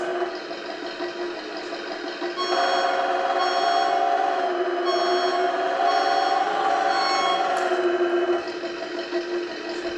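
A reversing backup alarm on a Redcat 53 Hauler RC truck, modeled on a 1953 Chevy and set to low volume, beeps in a steady electronic drone alongside a motor hum, swelling louder through the middle before easing back.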